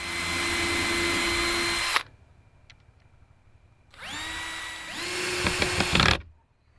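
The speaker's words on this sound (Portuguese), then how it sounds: "Mas da mesma forma vou usar a furadeira." A power drill whines loudly for a couple of seconds, stops, then spins up again in two quick bursts of rising pitch before cutting out.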